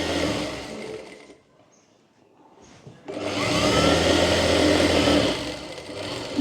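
A sewing machine stitching a kurta collar, with a loud steady motor whir that drops to near quiet for about two seconds, then runs on evenly again up close.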